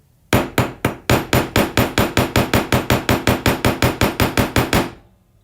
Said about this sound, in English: I'm using the smaller hammer here for this one.